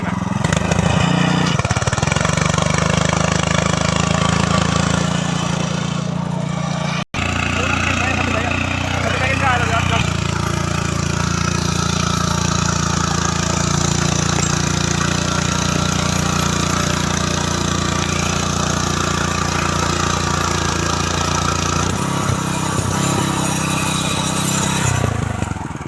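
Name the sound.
power tiller engine running back rotary in soil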